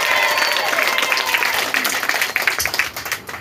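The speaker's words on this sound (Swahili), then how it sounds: "Pigia makofi makubwa Yesu Kristo leo." A church congregation breaks into loud, crowded applause mixed with cheering voices, dense at first and then turning into more scattered, choppy claps.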